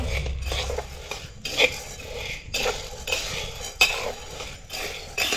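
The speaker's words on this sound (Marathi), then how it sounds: "डाळ आपल्याला अशी चांगली परतवत राहायची आहे या सगळ्या बाजून अशी डाळ चांगली भाजायला पाहिजे" Gram lentils dry-roasting in a pan for besan ladoo, stirred with a metal spoon in repeated close scraping and clinking strokes against the pan, with no talk.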